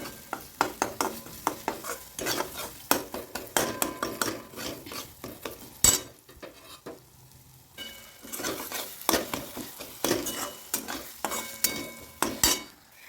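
Semolina (rava) roasts in a pan while being stirred, a run of rhythmic scraping strokes with faint sizzle underneath and a short quieter pause partway through.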